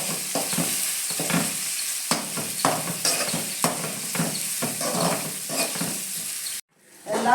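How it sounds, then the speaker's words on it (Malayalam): Ginger, garlic, green chili and onion fry in a pan while a spoon stirs them, giving a busy sizzle broken by repeated scraping strokes, then a brief hush before the noise returns. "ഇനി നമ്മളൊന്ന് ഇളക്കി കൊടുക്കണം"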